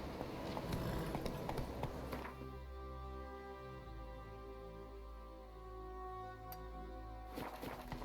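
A horse galloping in the video game The Witcher 3, quick rhythmic hoofbeats close and steady at the start and end, with a sustained tonal game background between.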